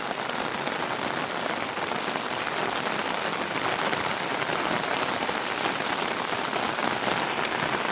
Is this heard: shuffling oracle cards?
no